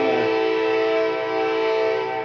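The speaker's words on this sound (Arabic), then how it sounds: "وسواق القطر مستقصدني كل يوم في نفس الميعاد، لازم يجي يزمر ما بيفصلش." A train horn sounds near a station: one loud, sustained, steady blast that holds for the whole stretch with no break.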